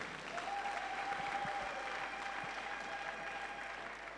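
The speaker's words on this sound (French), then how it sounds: "Applaudissons pour cette parole" A church congregation applauds during a tithe and offering service, dense sustained clapping from many people filling the room evenly, with a faint held tone running underneath.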